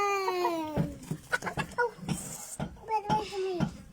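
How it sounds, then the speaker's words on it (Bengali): A desi chicken clucks repeatedly at close range in a short series of calls, while people talk nearby. "মুরগি।"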